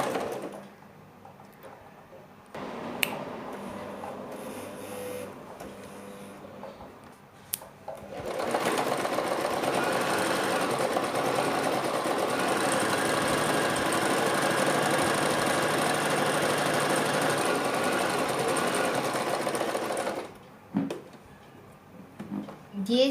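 Singer 1306 sewing machine stitching steadily and loudly for about twelve seconds, a continuous mechanical whir and rapid needle clatter, with quieter handling noises before and after.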